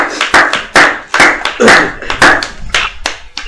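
A congregation at a French-speaking church service claps in a quick burst, with a run of loud, sharp hand claps close by.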